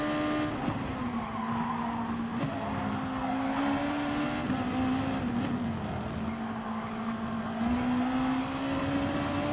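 A Honda Gr.2 race car in Gran Turismo Sport races at the Red Bull Ring, its engine holding a steady, loud droning tone that dips and rises slightly with gear changes and throttle, with faint tire noise and no talk.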